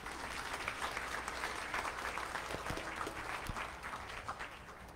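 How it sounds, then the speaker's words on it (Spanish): A parish congregation at a Sunday Mass gives a round of applause for a woman, a faint, continuous patter of many hands clapping at a steady level throughout. "Un aplauso a Ana, buen trabajo."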